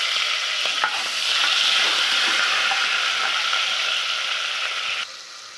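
Onions, tomatoes and green chillies frying in hot oil inside a pressure cooker, giving a steady loud sizzle with light stirring scrapes that drops off abruptly near the end.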